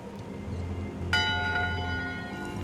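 A ship's bell in the video game Return to Monkey Island is struck once, then rings out with a bright, shimmering tone that decays slowly over a soft background hum.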